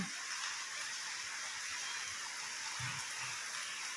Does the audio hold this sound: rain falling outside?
yes